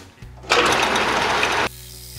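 A metal lathe fitted with a re-angled cutter turns the point on a spring-loaded center: a loud, steady grinding rasp for about a second, set over a low mechanical hum that continues before and after the cut.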